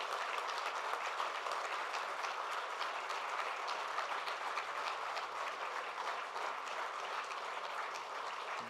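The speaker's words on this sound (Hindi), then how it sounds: "तो उस टाइगर के लिए तो आप 1100 बार ताली बजाएं" A hall audience at an event honouring Pawan Arora claps in a steady, continuous wash of applause, moderately loud and sustained throughout without talk.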